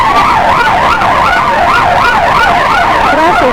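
Wailing sirens from an Atlantic City police motorcycle escort in a parade, loud and close, rising and falling in a rapid repeating yelp that continues without a break.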